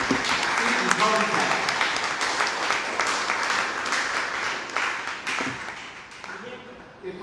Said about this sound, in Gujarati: દુનિયાના અંદર ખૂબ તાળીઓ